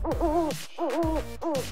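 A pet owl hoots three times in a close, clear series of rising-and-falling calls with brief pauses between them.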